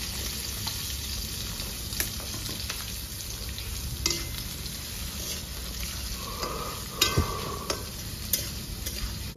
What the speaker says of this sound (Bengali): বন্ধুরা, তেলটা গরম হয়ে গেছে, ভালো করে কেটে রাখা পেঁয়াজগুলো ঢেলে দেবো।